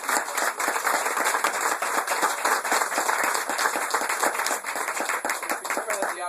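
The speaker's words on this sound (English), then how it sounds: "He deserves a great round of applause." Sustained applause from a gathered audience at a political event in a private New Hampshire home, dense steady clapping filling the whole stretch at a fairly close, even level.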